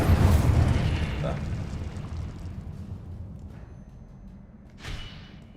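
An Incendio fire spell cast in the game Hogwarts Legacy bursts loudly at the start with a roaring whoosh, then trails into a lower rumbling wash, with a brief sharp flare near the end.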